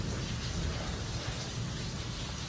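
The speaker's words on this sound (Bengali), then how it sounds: "দেখো একটু বৃষ্টিটা কমেছে" Rain falls steadily as a downpour eases off, a dense even hiss close to the microphone with no voices.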